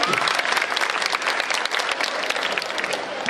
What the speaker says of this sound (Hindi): एक बार तालियां बजाकर मुझे आदेशित करें